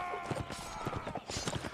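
Rapid hoofbeats of a galloping horse in Mount & Blade battle, quick rhythmic thuds close and fairly clear, with faint background commotion and no clear talk.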